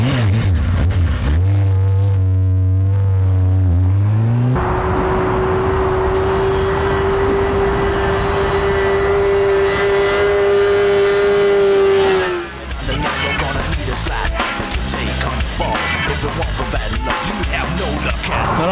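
A motorcycle engine revs hard as the rider pops a wheelie, rising to a long, steady high-pitched drone that holds for several seconds before dropping off. The engine sits close and loud throughout.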